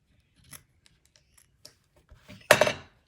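Scissors make a few small snips at a craft table, faint brief clicks ending in a louder close cut, with no talking.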